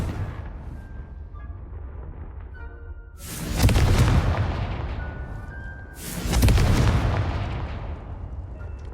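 Two Confringo spell blasts in Hogwarts Legacy, each a sudden booming explosion followed by a long, fading rumble, a few seconds apart. Both are loud and heavy against a quiet game background, with no talking.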